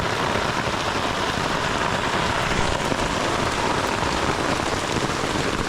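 Steady rain drumming on a tent overhead in the Australian outback, a dense continuous patter with no pauses, close and fairly loud.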